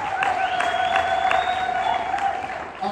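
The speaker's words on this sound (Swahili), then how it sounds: "Hebu mpe Bwana makofi ya shangwe." A church congregation at a Sunday service claps steadily for a few seconds. A sustained musical tone rings through the applause.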